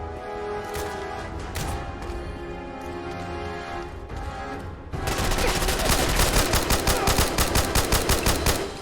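Rapid machine gun fire from Fallout 4 Far Harbor, starting as scattered loud shots over a music bed, then becoming a dense, steady burst of repeated rounds.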